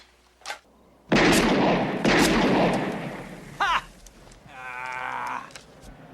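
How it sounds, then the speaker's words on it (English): Gunshots crack and boom at a target range where beer cans are shot, with a couple of loud reports echoing and fading, followed by a short metallic ring and softer noise, no speech. "So let's shoot us some beers."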